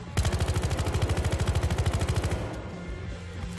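Rapid burst of gunfire at the shooting range in Battlefield Hardline, roughly twenty evenly spaced shots in quick automatic succession, loud and close, then cutting off into a fading tail.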